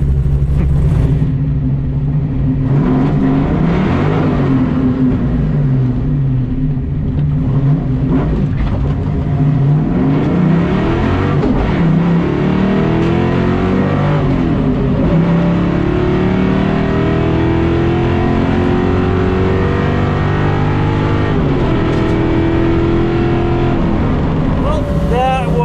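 A Ford drag car at a Ford Fest drag race, engine droning loud and steady while revving rises and falls, with a gear change partway through and the note climbing toward the end; no pause in the engine throughout.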